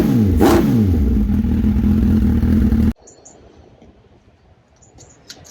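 A motorcycle engine on a new bike build runs loud and close with a rising rev for about three seconds, then cuts off abruptly into a quiet room with faint clicks.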